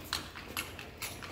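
Horse hooves clip-clopping on a street in Vigan City, with three or four sharp, evenly spaced hoof strikes over a low background hum.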